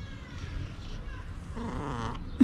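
A cat making odd little vocalizations while being petted, soft and close with short chirping, murmuring sounds and a brief louder note near the end, over quiet room background.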